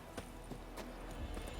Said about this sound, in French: il va me falloir le cheval parce que ça a l'air d'être vachement loin